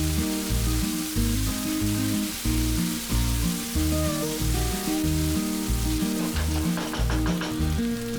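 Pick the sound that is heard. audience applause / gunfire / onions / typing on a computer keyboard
onions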